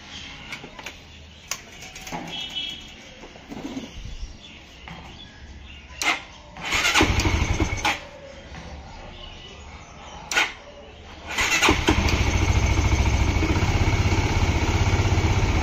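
Honda CBR motorcycle with a high-RPM problem and low oil tries to start, then catches and runs steadily near the microphone, revving in surges and settling into a loud idle.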